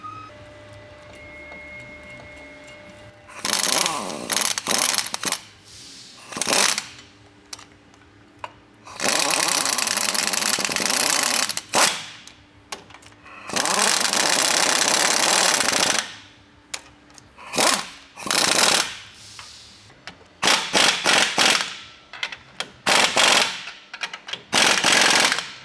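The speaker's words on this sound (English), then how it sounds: "All right, so we got the U-bolts tightened up." Impact wrench tightening U-bolts while installing an ICON lift kit on a Toyota Tacoma, heard as repeated loud bursts of hammering rattle separated by short pauses, close by and with no talk.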